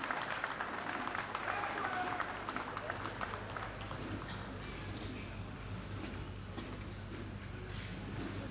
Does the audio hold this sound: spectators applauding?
yes